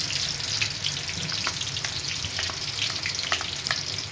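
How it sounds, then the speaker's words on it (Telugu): Ginger garlic paste fries in oil for a chicken pickle, a loud continuous bubbling sizzle with scattered sharp pops and crackles, heard close and without speech. "అల్లం వెల్లుల్లిపాయ పేస్ట్ వేసి వేయించుకోవాలి."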